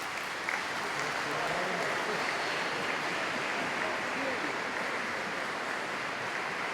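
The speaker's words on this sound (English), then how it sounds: "Will you applaud them in return?" A large audience at a University of Kent graduation ceremony applauds the graduates, a dense, steady wash of many hands clapping that holds evenly throughout.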